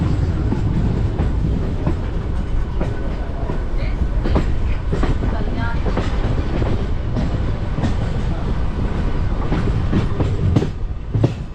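A local train from Sealdah toward Mayapur, just pulling out of Kalyani station, rumbles loudly along the rails with a steady rhythmic clatter of wheels over joints, heard from inside the carriage.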